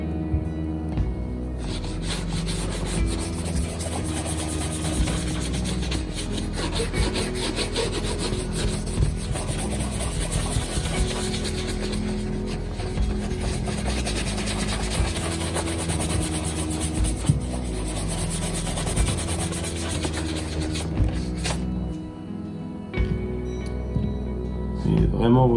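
A small amount of shoe polish is rubbed onto a leather shoe from the welt toward the heel, a continuous soft brushing and rubbing close up, with a person talking over it.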